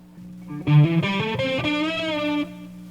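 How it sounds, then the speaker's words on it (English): A clean, sustained electric guitar line through a delay pedal in an amp's effects loop, echoing repeats trailing each note, the tone smooth and undistorted, played alone for a couple of seconds. "now it's just a clean delay"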